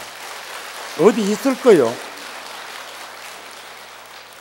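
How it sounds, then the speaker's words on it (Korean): An audience at a Buddhist dharma talk on the spring-start (Ipchun) prayer day claps in a soft, steady hiss like distant rain. Someone speaks briefly over it. "박수 한번 치고."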